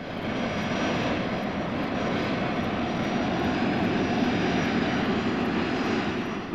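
Jet engines of a Concorde supersonic airliner at Shannon Airport roar in a steady, loud, broadband rumble with no break, with no voices over it.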